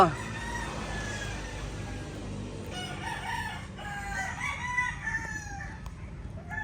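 A fighting cock crows loudly and close, a drawn-out cock-a-doodle-doo over a low rumble of vehicles, with other fowl clucking faintly in the background.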